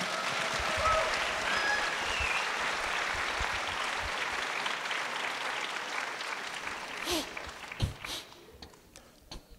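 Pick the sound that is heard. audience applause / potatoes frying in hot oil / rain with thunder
audience applause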